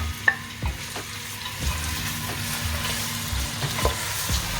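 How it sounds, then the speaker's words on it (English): Sliced white and red onions fry in hot oil with a continuous sizzle, punctuated by several stirring clacks and scrapes of a utensil against the pan. "So our oil is hot now, and I'm just going to add the onions."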